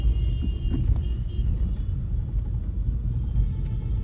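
Vehicles sit in a road traffic jam near construction work, producing a dense, steady low rumble of idling engines. Faint tonal whines and occasional brief clanks rise over the constant close drone.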